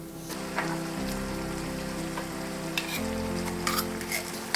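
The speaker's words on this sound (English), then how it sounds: "Into the pan the tomatoes go." Canned diced tomatoes hit a hot pan for a Hungarian goulash pasta sauce, giving a steady loud sizzle and hiss with a few sharper spatters and scrapes, and a low hum running underneath.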